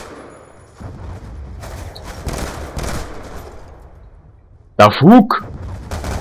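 Gunfire from the video game Call of Duty Black Ops 2: scattered rapid shots crackle over a few seconds beneath a player's running commentary, then a loud shouted exclamation.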